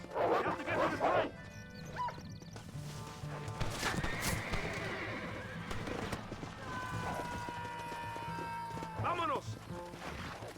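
In Red Dead Redemption, hooves clatter amid a horse's whinny and crashing noises, with shouting voices and a busy game-like soundscape throughout.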